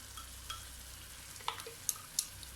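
Egg korma masala with fried onion paste sizzles softly in a pan while a spoon stirs it, with a few sharp scrapes and clicks against the pan over a faint, steady frying hiss.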